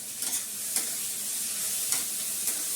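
Food sizzles in a pan of oil and is stirred, making a continuous frying hiss. A few distinct scraping strokes of the spoon sound close by.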